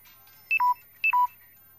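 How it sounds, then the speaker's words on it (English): A low battery warning sound plays two short identical electronic chimes, each a quick high tone dropping to a lower held tone, clear and close over a faint hum. "Oh, my battery level's low, sorry about that warning thing."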